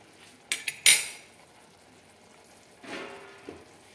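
A utensil clinks sharply against a pan twice in quick succession while chopped cabbage is added, then a softer scraping stir follows, all close and fairly quiet.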